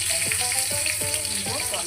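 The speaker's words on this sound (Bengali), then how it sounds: "আমি গোটা জিরা ফোড়ন দিলাম" Whole cumin seeds crackle and sizzle in hot oil, tempered for a quick noodle soup. The frying is steady and close, with a few spoon stirs breaking through. No one speaks.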